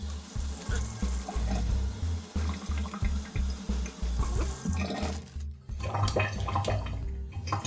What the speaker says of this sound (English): the first thing you have to do is you have to fill it up to this water line